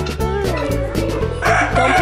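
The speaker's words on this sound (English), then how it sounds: "Chickens." Chickens clucking with a rooster crowing, close and steady across the whole stretch, with no talk over it.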